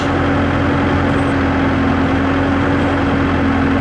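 Hydraulic system of an auger boring machine running steadily, a constant loud droning hum with a low engine-like rumble and a sustained tonal whine, no pauses or talk.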